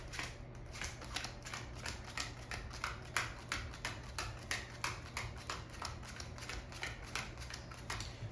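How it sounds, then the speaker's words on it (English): Playing cards dealt one at a time onto a pile, twenty-six in all, each landing as a light, crisp flick in a steady, even rhythm, close and fairly quiet with a low hum underneath. "I deal out 26 cards"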